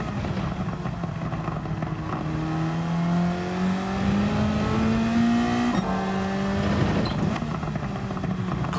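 A race car engine in a Gran Turismo 7 time trial holds a steady high drone as it revs up through a gear, briefly drops at a shift, then climbs again, loud and continuous with no talk.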